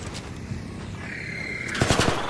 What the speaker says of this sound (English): Tom, stop shooting the fucking robots near the Rocketeers, dude.